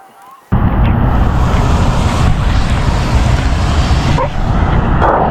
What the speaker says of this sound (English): Pouring rain now, and there's lots of thunder.